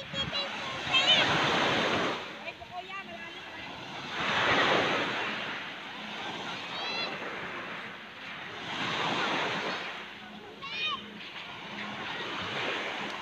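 Ocean waves roll onto a beach while someone walks along the seaside, with surges swelling and receding in slow cycles under wind noise on the microphone and occasional voices.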